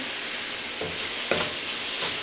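Seasoned vegetables sauté in a pan for veggie quesadillas, giving a steady close sizzle broken by a few soft stirring scrapes, with no talking.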